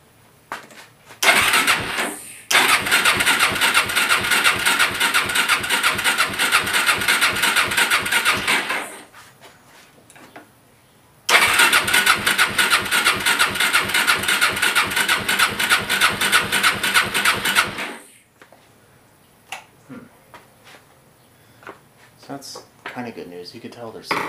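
A Suzuki LTZ ATV engine, freshly fitted with a replacement CDI, fires up and runs loudly and steadily for about six seconds, cuts out, then restarts for another six-second run before stopping, with quieter clicks and handling noise afterward.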